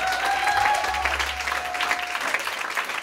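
Live concert audience applauding after a set at a trap music show, a dense wash of clapping at steady loudness with a held whistle-like tone near the start and a low hum underneath.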